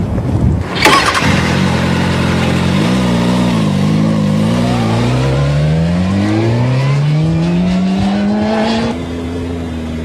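A motorcycle starts with a sharp blip and then holds a steady, loud engine drone while it is ridden. The engine pitch rises smoothly as it accelerates and then drops off near the end.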